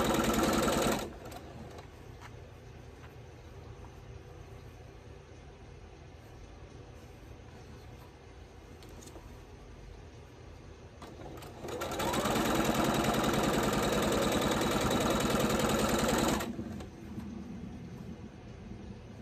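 Sewing machine stitching quilt pieces for a Shoofly Star quilt, a steady mechanical whir running at a moderate level through most of the stretch, then surging louder and faster for a few seconds near the end before easing back.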